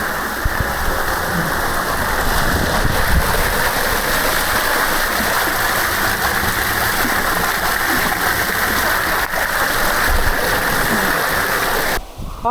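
A waterfall in Karijini National Park, Western Australia, gives a steady, dense rush of falling water, loud and unbroken throughout, like heavy rain pouring onto rock.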